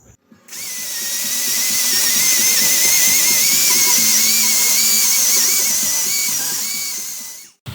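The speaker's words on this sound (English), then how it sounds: "So I get a little bit more lubricant on this fuel shut off and on the carb itself." Aerosol lubricant sprayed onto the fuel shut-off and carburetor of a pressure washer's Kohler-type engine, one loud, close, continuous hiss of about seven seconds that starts and stops abruptly, with no talking.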